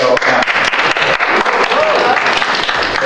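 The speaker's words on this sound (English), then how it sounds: "never been applauded for rescue before." Applause from an audience at a school board meeting, a dense steady clapping that fills the moment with a voice faintly underneath.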